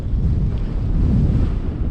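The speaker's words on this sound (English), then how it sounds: "That wind." Heavy wind buffeting a microphone while a rider pedals a Genesis Bohe bike with Stage 1 upgrades, a loud, continuous low rumble filling the whole moment with no voices.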